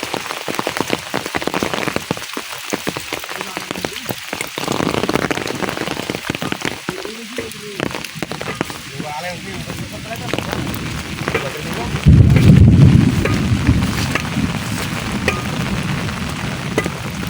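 Heavy rain pours down outdoors beside a road during flash flooding from a night-long downpour, a dense, steady roaring hiss that swells louder toward the end.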